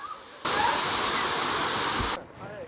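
A sudden burst of loud, steady rushing water noise like a waterfall, lasting under two seconds before cutting off abruptly.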